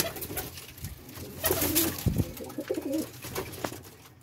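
Close, throaty cooing from domestic pigeons kept in a home loft, a few rolling low coos repeating over a soft rustling background with no voices.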